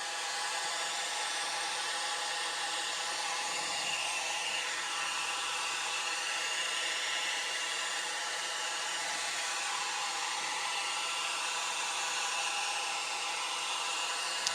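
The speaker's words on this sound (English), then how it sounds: "So here's the me blasting them with a hairdryer" A hairdryer runs continuously on high, blowing air to dry freshly contrast-painted miniatures, a steady loud broadband roar with no pauses or speech throughout.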